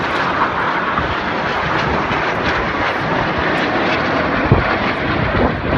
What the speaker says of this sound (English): These 4 aircraft are now flying at 100 feet, and their closing speed is 800 miles an hour